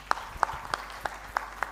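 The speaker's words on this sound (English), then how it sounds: "Let's give a big hand to Commissioner Mondo." Audience at an adolescent and youth conference in Uganda clapping for Commissioner Mondo, a sparse run of six distinct hand claps at a steady, unhurried rhythm, fairly close and clear with a quiet room behind.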